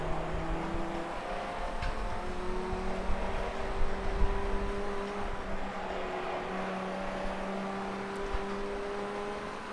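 A Formula Ford 1600 race car engine in the iRacing sim at Summit Point holds a steady, droning tone with slight pitch changes throughout, a continuous in-car engine note with no voices.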